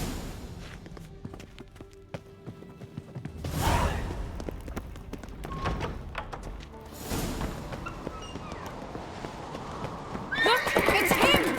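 Horses neigh and whinny amid clip-clopping hooves and bustling game sounds in The Witcher 3, with voices talking over parts of it; a loud whinny rises near the end.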